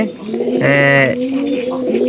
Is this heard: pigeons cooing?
yes